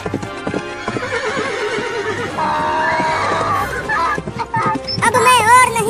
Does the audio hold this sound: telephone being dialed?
no